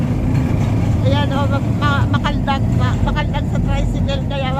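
A motor tricycle rattles along a bumpy road, its engine giving a loud, steady drone from start to finish while voices talk over it.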